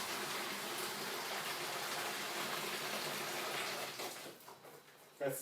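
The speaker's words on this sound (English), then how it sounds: "we're going to pour the water into the condenser jug" Two litres of boiling water pour steadily into a condenser jug for home brewing, a continuous close rushing gush that tapers and sputters toward the end.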